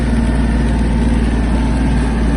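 A Kubota GL-32 Japanese mini tractor engine runs close by with a steady, loud idle, its even low rumble holding without change and no voices over it.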